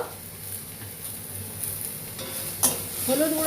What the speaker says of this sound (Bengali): কুচনো পেঁয়াজ দিয়ে একটু নাড়তে থাকবো